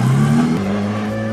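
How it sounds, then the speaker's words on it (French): A Volkswagen-based Scirocco kit car with a 330-horsepower V6 revs hard up close. The loud, buzzy engine note dips briefly, then holds a steady pitch for just over a second. "ça semble ne pas être une voiture de course au début, parce que ça fait beaucoup de bruit"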